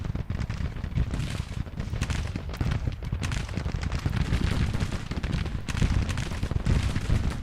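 Dense gunfire and artillery from a Civil War battle in a strategy game, the Battle of Second Murfreesboro: continuous crackling musketry with heavy booms rolling underneath, loud and unbroken throughout with no talking.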